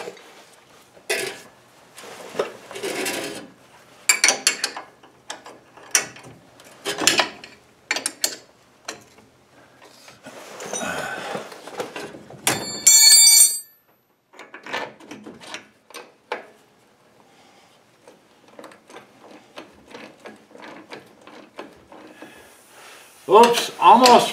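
A leaf spring shackle is fitted on a vehicle during a broken spring repair: close metallic clanks, ratcheting clicks and knocks of parts and tools come in irregular bursts with pauses, and someone talks intermittently.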